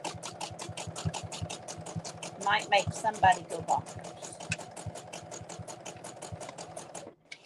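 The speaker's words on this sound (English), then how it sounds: "Because just listening to the burr of the sewing machine" A sewing machine stitching fabric rope for bowls runs with a fast, rhythmic mechanical clatter of needle strokes, steady and close, while someone talks over it before it stops abruptly near the end.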